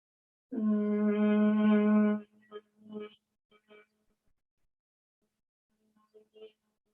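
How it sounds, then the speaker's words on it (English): A steady, low closed-mouth Om hum held for about two seconds, followed by soft breathy sounds and quiet murmurs with long gaps. "you're doing an Om, but with your mouth closed"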